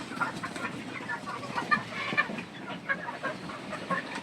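A flock of three-month-old Egyptian Fayoumi chickens on a farm in Ullapara, Sirajganj, clucks and chatters continuously at close range, with overlapping calls rising and falling.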